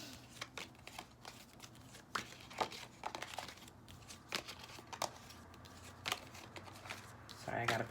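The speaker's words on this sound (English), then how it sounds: "let me shuffle a couple of times" A deck of cards being shuffled repeatedly, with riffling flutters and soft slaps close up at a moderate level, and a voice talking at times over the handling.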